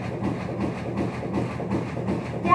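A laundry machine rumbles steadily, a low, continuous churning drone with faint rhythmic shaking, close by and alone.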